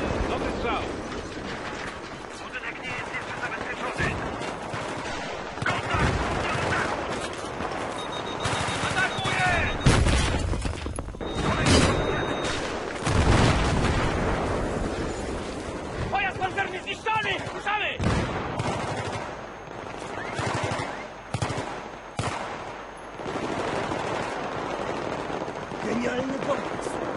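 Gunfire in the video game Battlefield 3 on the Operation Guillotine mission, dense volleys and bursts of shots with heavy blasts and mechanical clatter over a long stretch, mixed with talking voices throughout.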